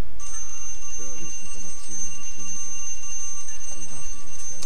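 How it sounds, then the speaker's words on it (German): A timer alarm rings with a continuous high electronic tone through the whole stretch, loud and steady over the game sounds and talk of the Hitman Absolution let's play. "Und das ist eigentlich mein Timer, dass ich die Folge beenden muss."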